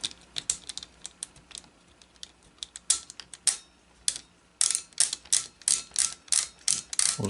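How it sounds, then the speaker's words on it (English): The takedown wheel of a Beretta U22 Neos pistol is turned to ratchet the barrel bolt home, a close series of crisp clicking ratchet ticks that speed into a quicker, denser rhythm toward the end, with no talking. "Which will just ratchet that bolt home."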